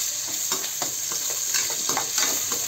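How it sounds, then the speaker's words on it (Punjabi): Ginger, green chillies and onion frying in a pan for fenugreek bhurji: a continuous close sizzle with repeated scraping stirs at an uneven rhythm, no talking. "ਨਾਲ ਹੀ ਆਪਾਂ ਹੁਣ ਅਦਰਕ ਹਰੀਆਂ ਮਿਰਚਾਂ ਅਤੇ ਨਾਲ ਹੀ ਪਿਆਜ਼ ਪਾ ਦਾਂਗੇ। ਦੋ ਤਿੰਨ ਮਿੰਟ ਭੁੰਨਾਂਗੇ।"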